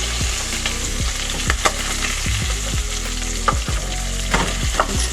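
Pork sizzles and fries in a pan with a constant crackling hiss, broken by occasional sharper pops and soft stirring clinks alongside a low rhythmic bass thump.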